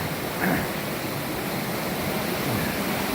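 Water of the Elk River rushes along the Appalachian Trail: a steady, close, broadband roar of flowing water that holds even throughout, with no voices.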